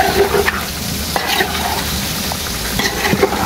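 Chicken curry being stirred in a pan, a close, steady sizzle with repeated scraping and sloshing of the spoon through thick masala, no talking.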